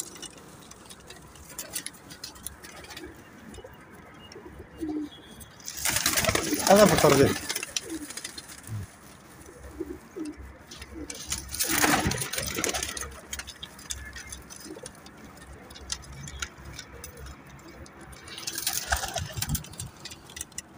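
A pigeon held in the hand on a rooftop coos softly beneath a voice, broken by three loud bursts of rustling or flapping.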